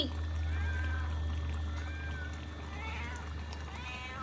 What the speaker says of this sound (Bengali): এই দেখো কে আসছে কিটি কিটি